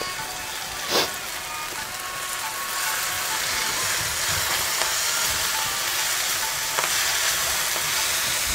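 Fenugreek (methi) leaves fry in hot oil for a Karnataka-style methi rice bath, giving a steady, close sizzle with occasional stirring scrapes and no talk.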